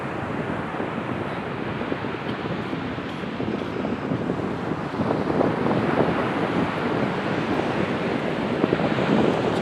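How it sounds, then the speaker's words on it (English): Pacific Ocean surf and wind on the shore at La Push, a dense continuous roar of breaking waves blended with gusty wind buffeting the microphone, loud and unbroken throughout. "the community of La Push is right on the Pacific Ocean"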